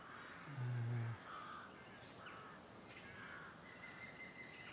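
Rooks, carrion crows and jackdaws caw and chatter at a distance in the morning countryside, faint scattered calls over a soft background hiss.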